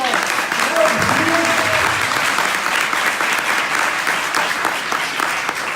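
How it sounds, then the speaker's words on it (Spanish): A Spanish-speaking audience at a BodyLogic Global product presentation breaks into loud, dense applause, with a brief voice near the start before the clapping carries on steadily. "¿Vale o no la pena un bonito aplauso?"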